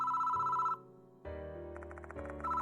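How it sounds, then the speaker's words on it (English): A telephone rings in the video game Death Mark 2, an electronic ring tone in steady repeated bursts with a brief gap, clear and alone over a quiet game background. "Why is the phone ringing now?"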